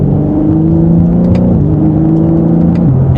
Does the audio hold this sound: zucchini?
no